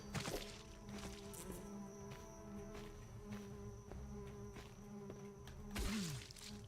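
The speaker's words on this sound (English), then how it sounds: "I got bees after me." A swarm of bees chasing the player in a video game makes a faint, continuous insect buzz. Brief game thwacks and hits sound through it, and no one speaks.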